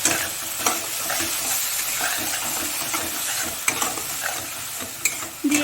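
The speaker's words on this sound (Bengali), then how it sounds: "দিয়ে এগুলোকে ভালো করে একটু ভেজে নেব" Pointed gourd seasoned with salt, turmeric and chili powder fries in a pan, giving a constant hissing sizzle broken by occasional sharp scrapes of stirring; no voices.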